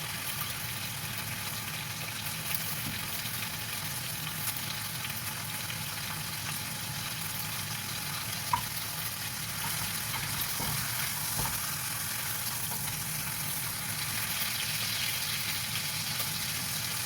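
Braised beef transferred into a pot, sizzling and frying in a steady continuous hiss with faint clatter, moderately quiet and without voices.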